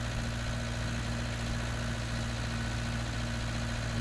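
A tractor engine idles steadily in Farming Simulator 19, on an Irish farm during late-spring silage work: a constant low droning hum with a fixed tonal pitch, close and even throughout, no voices.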